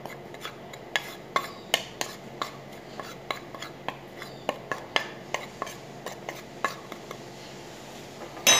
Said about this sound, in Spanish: Y ahora lo que voy a hacer es mezclarlo muy bien